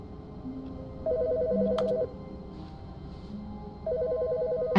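A telephone rings twice in the video game The Stanley Parable 2, each burst a steady electronic trill about a second long, separated by a quiet pause, heard close and alone with no talking.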